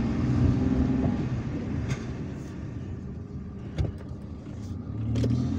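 Car driving through city streets in Algiers near Hussein Dey, a low rumbling road and engine drone with passing traffic swells and a couple of brief knocks, fairly quiet and steady.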